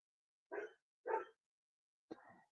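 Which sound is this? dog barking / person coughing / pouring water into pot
dog barking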